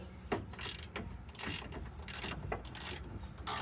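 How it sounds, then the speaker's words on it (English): An extendable ratchet wrench turns a rear shock bolt on a 2002–2009 Chevy Trailblazer, making a quick series of close, crisp clicking ratchet strokes in an uneven rhythm. "these extendable ratchets are really nice too if you can get your hands on one of them"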